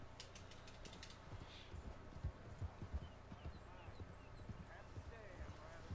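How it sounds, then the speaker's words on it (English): A horse in the Red Dead Redemption video game runs on hooves, a quick uneven clip-clop under a voice talking over it, at moderate loudness. "Didn't know you could do a running jump onto your horse's back."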